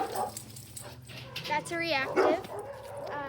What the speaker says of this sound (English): As you can hear him barking